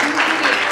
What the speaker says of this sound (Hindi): दुनिया की हमारी जोरदार तालियां बजा दीजिए